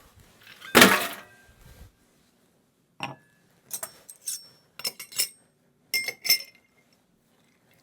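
Cocktail strained over ice into Nick and Nora glasses: a loud clatter of ice against metal, then a pause and a run of short, bright clinks and rattles as liquid and stray ice pour through the strainer.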